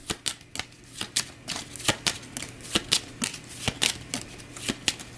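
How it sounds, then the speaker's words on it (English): A deck of turn order cards for the board game Aeon's End is shuffled up close, a rapid run of crisp riffling snaps and taps with no talking. "Now let's grab the turn order deck up once again. Give it a shuffle."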